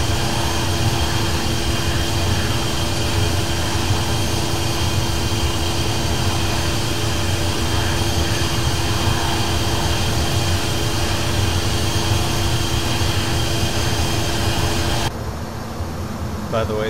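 A steady, loud jet engine roar from an SSG 170 airliner in flight in the X-Plane 10.5 flight simulator, en route from KLAX to KSFO, holds unbroken throughout with a dull rumble and no audible talk.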